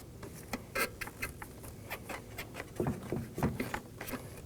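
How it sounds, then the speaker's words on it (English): Needle nose pliers working a hose clamp off a hose in the engine bay of a 2015-2023 Nissan Maxima, a quiet series of close metallic clicks and scrapes in an irregular rhythm, no speech. "I'm going to remove it using some needle nose pliers."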